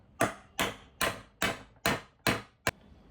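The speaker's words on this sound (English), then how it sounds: "an adapter which needs to be put into this one and then hammered into place for making it a snug fit" Seven sharp hammer blows, the first six evenly spaced and the last quicker and lighter, drive a 3D-printed adapter into a robot wheel to seat it snugly, ringing out close and loud with no talk.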